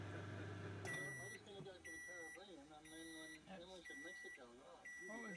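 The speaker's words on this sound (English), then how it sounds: "Our first heating of the new microwave." A new microwave oven hums as it heats, then gives a series of evenly spaced high beeps, about five in a row, while people talk quietly nearby in a camp setting.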